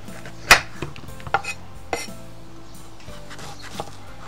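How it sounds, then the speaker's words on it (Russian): A knife cuts bell pepper and onion into small cubes outdoors beside a campfire, giving a few sparse, sharp knocks and light clinks against a quiet background. "Теперь я начинаю резать перец."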